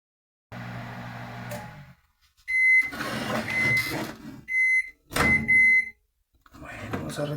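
A repaired microwave oven runs with a steady hum in bursts, broken by pauses, sharp clicks and bright beeps, while a person talks over parts of it.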